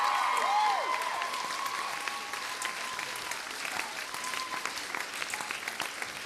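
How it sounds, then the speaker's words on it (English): Audience applause for a technical director at a variety show thank-you night, sustained clapping from a crowd that swells at first, then settles into a steady, even patter. "Let's give Richard a round of applause."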